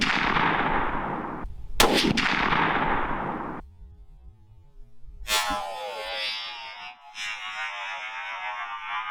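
A single loud rifle shot cracks out during a deer hunt in Iowa, followed by a long fading echo across open ground; afterward a faint tonal hum sets in with no talking.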